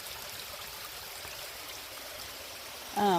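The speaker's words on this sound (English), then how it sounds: "I'm walking through the waterfall." A small waterfall on a hiking trail rushes with a steady, broad wash of falling water, even and continuous from start to finish. A faint bird chirp comes in near the end.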